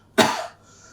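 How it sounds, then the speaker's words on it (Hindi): One deliberate, forceful cough, a single harsh burst that trails off within half a second, close and alone without speech. "फिर खांसी करना लाइक दैट"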